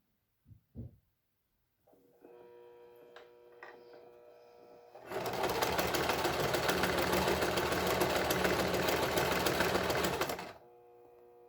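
A sewing machine stitches the waistband of harem pants, with a dense, steady whirring run for about five seconds after a few clicks and a quieter hum, then stopping.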